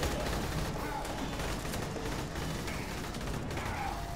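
Gunfire in the video game Aliens: Colonial Marines, a steady dense barrage of shots filling the background throughout, continuous and fairly loud with no clear breaks.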